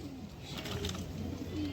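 Pigeons coo softly in a loft where young birds are kept for sale, a low rolling murmur that continues steadily through the short moment with no talking.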